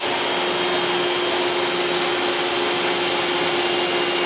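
A factory machine cuts snare drum shell material to length, giving a loud, steady whirring drone with a constant tone that runs unbroken from start to finish.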